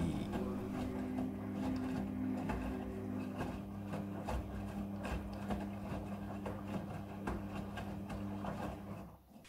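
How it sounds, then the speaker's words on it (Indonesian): A front-loading washing machine drum spinning bed sheets and pillowcases with a steady droning whir and rattling hum, close and continuous, easing off near the end. "Ini adalah pemerasan cucian. Pemerasan cucian yang ke-1."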